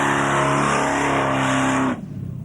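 A V8-powered little Mazda revs hard at Summernats, a loud, sustained, buzzing engine roar held steady close by before cutting off abruptly near the end.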